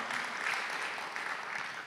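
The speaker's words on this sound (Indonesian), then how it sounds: "Boleh tepuk tangan yang meriah buat nama Tuhan." A church congregation at a Sunday service gives a warm round of applause, a steady, even wash of clapping that carries on for the whole stretch, heard at a moderate distance with no voices over it.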